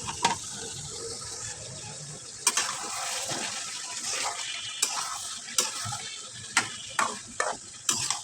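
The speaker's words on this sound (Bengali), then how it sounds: "আমি সব সবজি পর্যায়ক্রমে একে একে দিয়ে কষিয়ে নিচ্ছি" Mixed vegetables are sautéed one after another in a pan for a fish and winter-vegetable curry, heard as a soft continuous sizzle with sharp utensil clacks and scrapes at intervals, and no talking.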